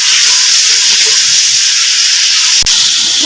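Ginger garlic paste and onion frying in ghee, a steady loud broadband sizzle with a constant hiss throughout and no talking.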